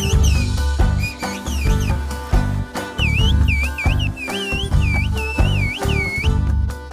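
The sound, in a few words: Black Sea whistled language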